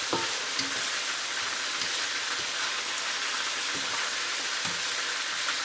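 Ginger garlic paste frying with onions in oil for mutton gola kabab curry, a steady dense hiss and sizzle throughout with faint scattered clicks of stirring, close and continuous.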